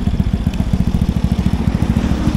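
Motorcycle exhausts from a group including a Bajaj Pulsar NS200, Pulsar 220F and Yamaha R15 V4 throb in fast, even pulses, loud and close, with rhythmic popping under a steady roar.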